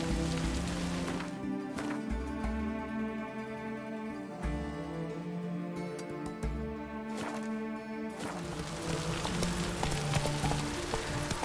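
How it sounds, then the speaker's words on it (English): Steady rain falls in The Witcher 3: Wild Hunt, a dense hiss of drops on surfaces that runs without a break, with the clip-clop of horse hooves beneath and no one talking. "It's raining, of course it's going to be damp."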